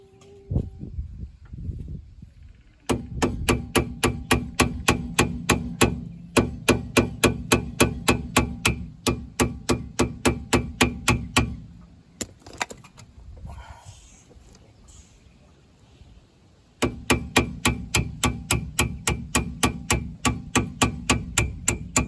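Metal hammer blows striking a punch to drive out a splined strut bolt on a 2005 Chevy Malibu, long runs of rapid, evenly spaced loud ringing strikes separated by brief pauses.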